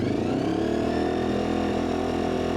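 A Honda VFR750 motorcycle engine revs steadily up to about 5,000 RPM, a loud, sustained buzzing drone heard up close with no talking.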